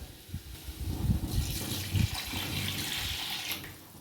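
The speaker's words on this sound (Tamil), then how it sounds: "நான் தேவையான அளவு தண்ணி ஊற்றிட்டேன்." Water pours into a pot of chicken biryani, making a steady splashing gush that swells and holds for a few seconds before tapering off. The sound is fairly close, with small clunks underneath.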